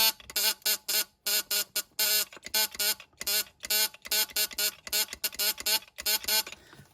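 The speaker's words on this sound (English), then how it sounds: "Flick it over to the buzzer." Buzzer of a vintage 1950s Fairylite Space Station Morse signalling set keyed by hand, loud close buzzing bursts in an irregular pattern of short dots and longer dashes, with brief silent gaps between them.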